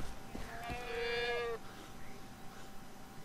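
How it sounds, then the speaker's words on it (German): A goat in the video game Far Cry 3 gives a single clear, wavering bleat of about a second, faint against a quiet game background. "Ziegen."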